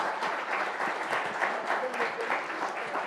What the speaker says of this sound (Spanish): Aplaudanla porque es muy importante.